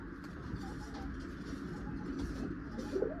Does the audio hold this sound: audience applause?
no